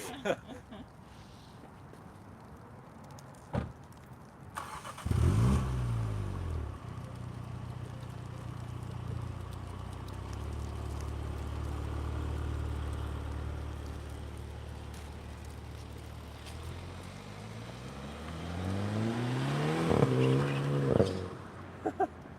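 A 2020 MINI John Cooper Works GP rumbles nearby, its engine rising and falling through several revs and long idling stretches, with crackles near the start and end.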